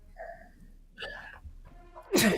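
Soft breathy intake sounds lead into one sharp, loud sneeze at the end, close by.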